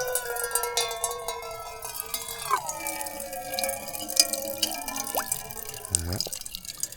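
Water drips and trickles into a container filled from a stone tap outdoors in Switzerland, with several ringing drops rising in pitch over steady background hiss, a voice talking faintly underneath.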